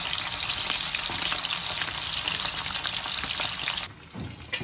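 Dried milkfish (daing na bangus) fries in a pan with a loud, steady crackling sizzle that fills most of the clip, then drops off sharply near the end, with no talking.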